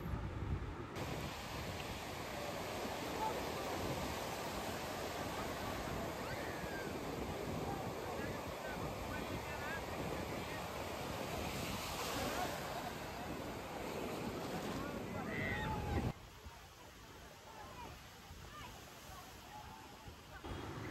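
Sea waves at Udaipur beach near Digha, West Bengal, make a continuous broad surf roar mixed with wind buffeting the microphone. The wash carries on steadily and drops to a softer level near the end.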